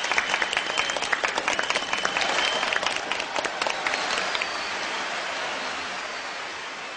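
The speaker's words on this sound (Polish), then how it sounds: "Brawa jeszcze raz dla finałowej czwórki." Applause from a studio audience greeting the final four contestants of a Polish television competition, a dense, steady patter of many clapping hands that starts strong and slowly thins toward the end, with no talk over it.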